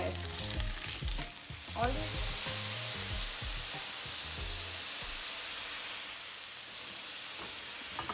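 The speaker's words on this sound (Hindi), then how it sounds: "मीडियम आंच पे फ्राई करना है और क्रिस्प और गोल्डन होने तक इसको फ्राई करना है।" Potatoes fry in oil over a medium flame, a steady crackling sizzle filling the background while a spoon stirs and clinks in the pan; a voice briefly speaks.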